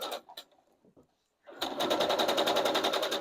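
After a few soft clicks and a brief silence, a sewing machine starts stitching fabric for a headband, running with a fast, steady mechanical chatter, loud and close.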